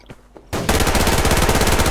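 Rapid automatic gunfire from the online shooter Survarium, a dense, loud burst of repeated shots that kicks in after a quiet moment of faint lighter pops and continues steadily to the end.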